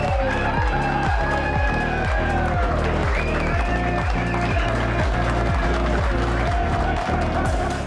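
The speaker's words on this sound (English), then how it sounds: "Listen to the crowd." An Australian football stadium crowd roars loud and continuous as Adelaide Crows vice-captain Rory Sloane kicks a 50-metre goal against Geelong in round 17, 2018. A dense, sustained wall of cheering and clapping carries on under commentary.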